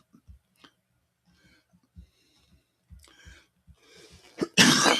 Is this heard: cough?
yes